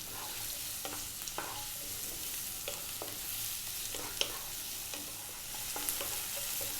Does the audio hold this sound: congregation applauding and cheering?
no